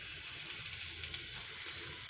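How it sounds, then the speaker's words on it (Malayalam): Coconut oil sizzles in a hot clay pot, giving a steady, close hiss that holds at an even level throughout with no voices. "അതിലേക്ക് നമ്മൾ വെളിച്ചെണ്ണ ഒഴിച്ച് കൊടുക്കുകയാണ്"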